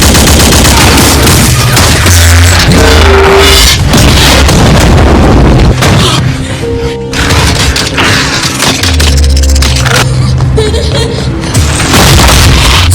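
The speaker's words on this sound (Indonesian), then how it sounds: "Mereka saling beradu tembak dan senjata." A Transformers movie battle between Autobots and Terrorcons: loud, continuous volleys of gunfire mixed with heavy booms and bits of shattering, densely layered throughout.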